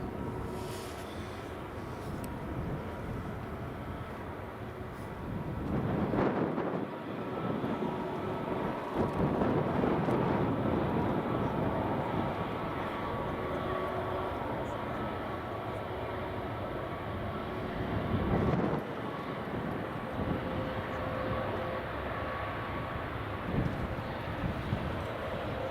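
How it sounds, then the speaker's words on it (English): A British Airways CityFlyer Embraer E190 airliner arrives at Edinburgh Airport, a long, steady jet roar with wind buffeting the microphone, swelling in a few places over about twenty-five seconds and heard without talk. "next up is British Airways City Flyer E190 coming in from London City"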